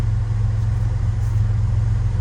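A Ford Capri 3.0S engine idling after a start, a steady low rumble with an even pulse throughout, close by and continuous without speech.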